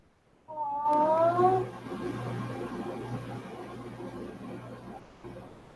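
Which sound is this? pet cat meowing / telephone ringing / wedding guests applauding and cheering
pet cat meowing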